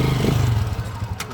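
A well-kept 1996 motorcycle's engine idles close by in a repair shop, a steady low rumble with some light mechanical clatter over it.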